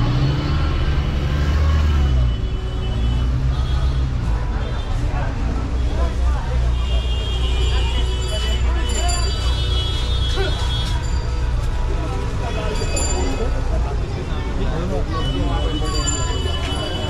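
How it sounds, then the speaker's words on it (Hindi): Dense, busy road traffic in the Karol Bagh market area, a steady broadband roar of cars, trucks and buses with constant engine rumble and crowd babble throughout, loud and close without letup. "ये देखिए दोस्तों कितनी ट्रैफिक है"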